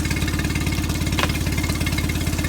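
A 2007 Mercury 8 HP four-stroke outboard motor idles in neutral with a loud, steady, rapid chugging pulse that stays close and even throughout, with no voices.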